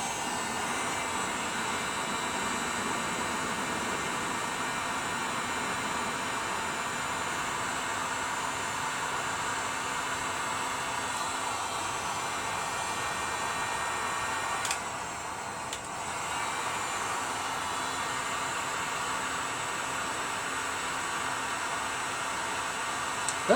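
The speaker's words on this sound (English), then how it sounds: "So I've got my heat gun now. Let's just heat it up and see if it moves." A heat gun blows steadily on a Kohler auto choke thermostat on a Toro Recycler mower, giving a constant broadband hiss and whine that holds for the whole stretch with one brief dip near the end; no voices.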